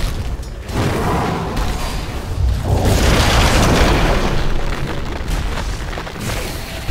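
A Dire tower collapsing in Dota 2: a loud, rumbling boom that swells midway and rolls on with crackling debris, heavy and close throughout.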